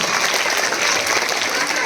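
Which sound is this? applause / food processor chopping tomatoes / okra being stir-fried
applause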